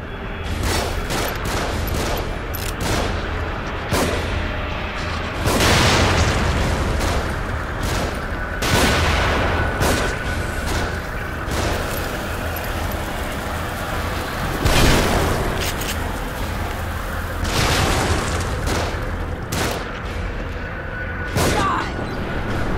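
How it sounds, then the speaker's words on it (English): Gunfire rains down from above in The Evil Within, sounding as repeated sharp bursts and booms spread through a dense, noisy game mix with faint voices. "Shooting from above."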